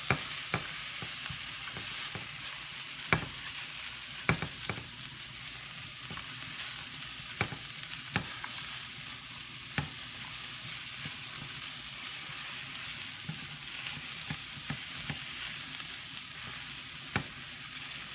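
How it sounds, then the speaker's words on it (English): Mushrooms stir-frying in a hot pan, a steady close sizzle and crackle with scattered sharp pops and light stirring clicks throughout. "We're just cooking this until now we're looking for the mushrooms to soften up and cook."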